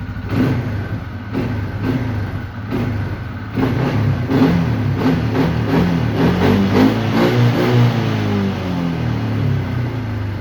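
A new Kuba TRV 350 ATV engine, still in its break-in period, revs up repeatedly in rising bursts over a steady idle, loud and close, with no voices.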